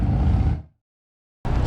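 A motorcycle roars past on a side road in Cave Springs, loud and close, then cuts off abruptly into silence before another burst of engine noise returns at the end.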